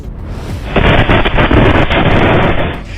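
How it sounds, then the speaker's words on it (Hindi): A blast at a police station in Nowgam, Jammu and Kashmir, caused by seized explosive material, comes as a loud, sustained rumbling roar that erupts after a half-second and stays heavy for about two seconds before easing off. "शुरुआती रिपोर्ट्स के मुताबिक ये विस्फोट उसी आतंकी मॉड्यूल से बरामद विस्फोटक सामग्री के कारण हुआ है"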